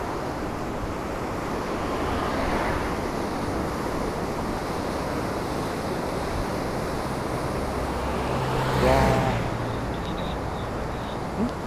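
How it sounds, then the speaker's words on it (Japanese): Ocean waves rising along the Hokkaido coast near Shinhidaka and Shizunai wash in as a broad, continuous surf roar, mixed with wind buffeting the microphone, with one louder surge near the end. "かなりかなり波上がってきてますね。"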